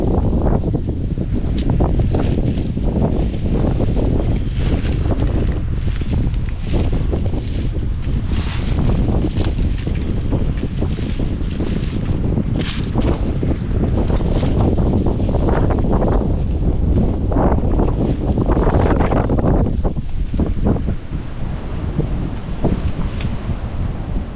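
Strong wind roars through a spring forest where morel mushrooms grow, a loud, constant buffeting rush with gusts that swell and fade, close and harsh against the microphone, with no talking.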